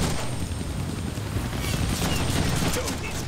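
Rapid gunfire bursts from weapons in the Deadpool video game, a dense crackling fusillade that runs steadily through the whole stretch at moderate loudness.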